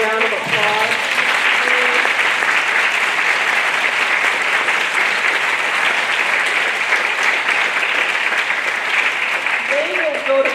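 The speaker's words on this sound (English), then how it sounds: "Please give them a round of applause." Sustained, steady applause from a town hall audience in West Seattle honoring a congresswoman's staff, loud and even throughout, with brief voices at the start and end.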